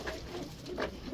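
Pet pigeons in a breeding setup cooing close by, two soft throaty coos within a second amid a low rumbling background.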